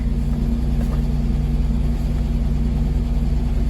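A 2006 Chevy Equinox running, a loud, steady low engine rumble and drone held close throughout, with no talking.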